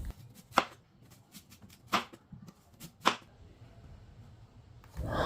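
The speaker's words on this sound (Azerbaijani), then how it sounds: "Bir böyük, bir də orta boy soğanı bu cür dairə formasında doğrayıram." Knife chopping a large onion into rings on a board, three distinct sharp cuts spaced about a second apart with lighter taps between, close and clear with no talk.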